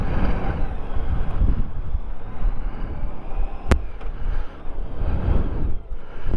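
Honda Goldwing motorcycle out on a road ride, a steady loud rumble of engine and wind rush with a brief sharp click partway through, and no voices.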